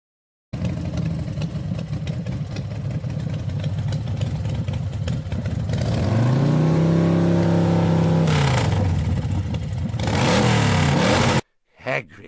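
A motorcycle engine idles with a rough, even rumble, then rises and falls in pitch as it revs and slows, close by, before cutting off.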